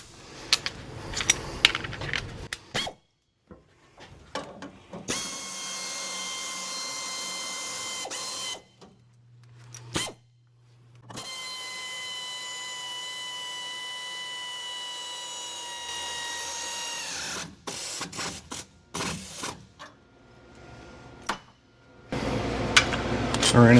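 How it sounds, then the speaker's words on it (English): An air ratchet works on Nissan Frontier leaf spring bolts. Two long stretches of steady whirring tool whine are framed by scattered clicks, knocks and metallic handling noises. "Air gun won't fit, so I'm going to use an air ratchet or a ratchet."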